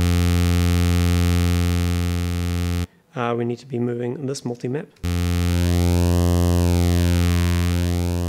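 A buzzy synthesizer tone drones steadily, interrupted by a brief spoken remark, then returns with a slow sweeping phaser swirl moving through it.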